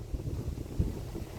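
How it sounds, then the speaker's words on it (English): Strong wind gusts buffet the microphone at a lakeside beach campsite, a low rumbling roar with a brief sharper gust near the middle and no voices. "It's really windy."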